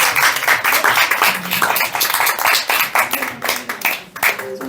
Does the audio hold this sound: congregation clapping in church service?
yes